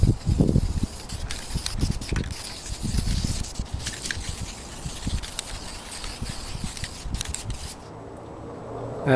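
An aerosol spray can laying a primer coat on motorcycle bodywork during an FZR restoration, a close, steady hissing in repeated bursts that stops near the end.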